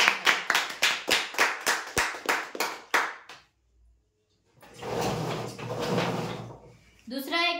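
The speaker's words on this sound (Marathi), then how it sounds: "जोरदार टाळ्या।" Loud, rhythmic clapping at a prize draw, a dozen sharp claps in quick succession, then a pause followed by broad crowd applause and a voice at the end.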